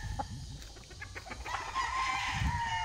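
Roosters and hens on a Philippine rooster farm cluck and crow in short bursts, with a drawn-out crow rising near the end against steady outdoor background noise.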